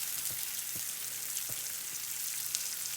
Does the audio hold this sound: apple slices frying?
yes